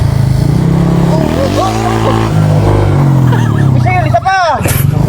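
A motorcycle engine revs loudly up close as the throttle is worked with the clutch, its pitch climbing and falling in repeated surges, while people talk over it.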